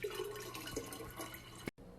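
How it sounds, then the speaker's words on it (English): Water pouring from a refrigerator's water dispenser into a container, a steady close trickle and splash that runs for under two seconds and then cuts off abruptly. "Just getting this fridge water, you know?"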